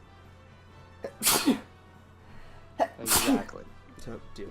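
Two sharp, loud sneezes burst out a couple of seconds apart during a podcast recording, with brief talk heard quietly between them.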